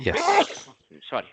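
A single sneeze bursts out at the start of an online work meeting, close and loud, followed by a short spoken apology.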